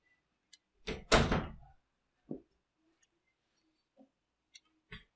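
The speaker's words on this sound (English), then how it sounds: "He's like sitting there fucking pawing at the goddamn door." A house cat pawing at a closed door: a few scattered bumps and thuds against the door, with one louder rattling knock early on, then sparse faint taps amid near silence.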